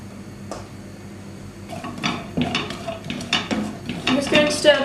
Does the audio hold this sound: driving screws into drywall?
no